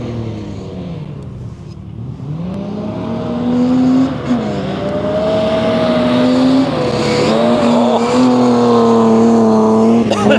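A car on a dusty motorkhana stage revs hard and sustains a loud, close engine drone that rises and falls in pitch with gear changes and acceleration, alone without talk.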